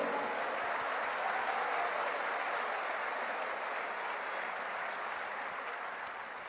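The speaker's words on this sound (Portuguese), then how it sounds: "Un aplauso para Jesucristo." Congregational applause at a church gathering, a broad continuous wash of many hands clapping, fairly distant and even, fading slightly toward the end.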